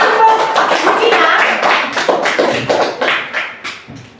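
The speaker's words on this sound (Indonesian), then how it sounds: "Mari kita tepuk tangan untuk kita." A classroom group claps hands together in a dense burst of overlapping claps that tapers off over about four seconds, with some voices mixed in.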